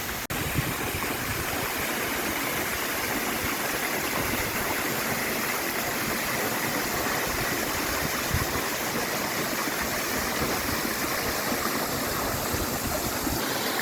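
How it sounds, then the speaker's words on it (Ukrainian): The Huk waterfall near Vorokhta in the Carpathian mountains roars as a steady, loud, unbroken rush of falling water, close by and without voices. "Ось ми і прийшли на водоспад Гук."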